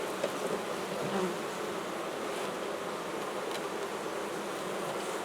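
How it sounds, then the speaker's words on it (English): A dense, continuous buzz of many honeybees humming together inside a hive, steady and enveloping, with no voices. "There's a lot of bees in here"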